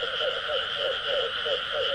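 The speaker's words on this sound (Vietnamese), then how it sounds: "nhái kêu quá trời luôn nè" Small frogs croaking at night in a rice field, a dense, steady chorus of rhythmic calls pulsing evenly throughout, loud and close with no voices.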